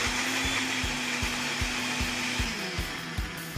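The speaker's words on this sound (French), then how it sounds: "On met toutes les tomates dans le mixeur. On va les mixer." An electric blender purees tomatoes into juice in a kitchen, a loud steady motor whine with a rhythmic pulsing chop, running alone for the whole stretch.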